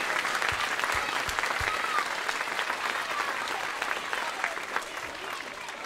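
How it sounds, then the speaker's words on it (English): A large audience at a junior primary school concert claps steadily and continuously, a dense wash of applause that tapers slightly toward the end. "Let's give them a round of applause."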